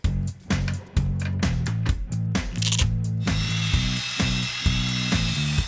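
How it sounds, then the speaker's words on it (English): A power drill fitted with 500 grit sanding discs buzzes steadily against a plastic headlight lens, its pitch surging and dipping in short repeated passes, loud and close with no voices. "We'll make our first pass with the 500 grit discs from the kit."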